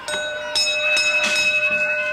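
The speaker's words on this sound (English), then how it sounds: "Ring the bell." Wrestling ring bell rung to end a match: several sharp metallic clangs in quick succession, with a sustained ringing tone that lingers between strikes, loud and close.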